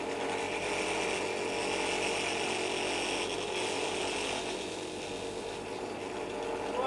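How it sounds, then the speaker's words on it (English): A continuous, rough mechanical grinding and whirring of a drill boring a hole for a carbon rod in a zinc bromide cell, close and steady for the whole stretch. "I'm over here drilling a hole."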